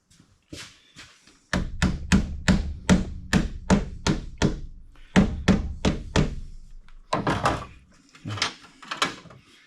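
A dozen sharp hammer strikes on a hot rod's battery setup land in a quick, steady rhythm, a short pause, then another run of blows, followed by a little scraping and handling noise.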